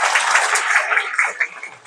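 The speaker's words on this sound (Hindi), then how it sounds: "मैं चाहूंगा कि तालियों से इनका आप लोग स्वागत करें।" An audience at a school teachers' farewell ceremony claps to welcome a speaker, a brief burst of steady applause from a room of people, fairly close, tapering slightly near the end.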